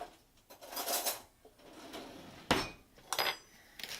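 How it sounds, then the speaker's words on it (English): A spoon taps on a bath bomb mold, a few sharp, close clicks and knocks spaced irregularly, quiet between strikes, with scraping handling noise. "sometimes you have to kind of tap on the mold itself with a spoon"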